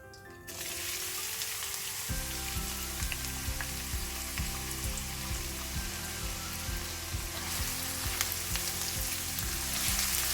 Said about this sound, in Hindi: थोड़ा सा भूनेंगे इसे। और इसी के साथ ऐड कर देंगे प्याज।